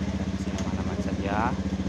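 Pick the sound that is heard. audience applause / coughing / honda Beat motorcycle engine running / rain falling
honda Beat motorcycle engine running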